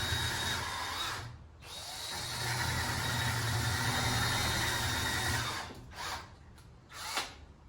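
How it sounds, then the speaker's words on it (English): A power drill whirs steadily at low speed boring into antler, pausing briefly, then running again before a few short stop-start bursts near the end. "I got a very slow rotation on this drill bit"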